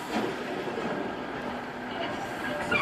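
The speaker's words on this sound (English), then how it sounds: "At Whitby railway station, trains of the North Yorkshire Moors Railways leave for a trip to Pickering Station" A North Yorkshire Moors Railway steam train at Whitby station gives off a faint, steady low rumble throughout, with a little rail noise and a soft hiss and clank near the end.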